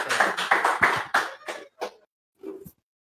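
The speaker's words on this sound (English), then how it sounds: "Let us give our Mr. Face of ALIAC 2020 first runner-up a big round of applause." A pageant audience at the Mr. Face of ALIAC 2020 contest claps for the first runner-up in a few short bursts that quickly die away, ending with a lone tap.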